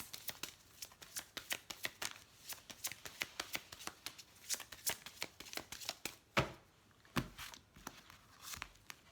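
Oracle cards being shuffled during a French-language tarot-style reading, a rapid run of crisp riffling flicks and soft slaps, close and fairly quiet, with a couple of sharper card snaps near the end and no talking.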